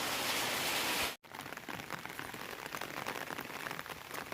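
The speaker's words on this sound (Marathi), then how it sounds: "पण आता बघा परत सुरू झाला पाऊस" Steady rain pouring down, a dense hiss of drops spread across the whole clip, with one brief gap of silence near the start.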